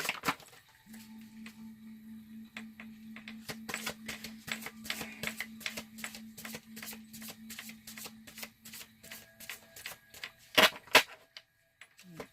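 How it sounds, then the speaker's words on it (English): A long run of crisp tarot-card-shuffling riffles, rapid ticking flutters repeating steadily, close and fairly quiet, with a few sharper snaps near the end. "I'm sorry for those who don't like hearing shuffling."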